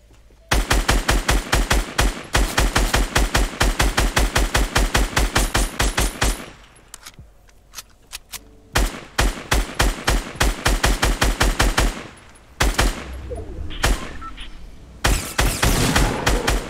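Assault rifle fire in Fortnite, long rapid bursts of evenly spaced, loud, close shots that break off, resume in shorter volleys, and end in scattered single shots.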